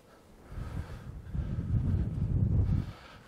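Strong gusts buffet a camera set low on a golf course, a muffled low roar swelling twice in close, blustery bursts with no voices heard.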